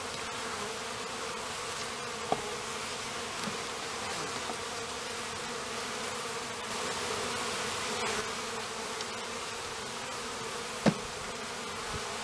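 Honey bees hum in a steady, close, continuous buzz over an open-brood hive frame during February varroa mite checks, with a couple of faint clicks.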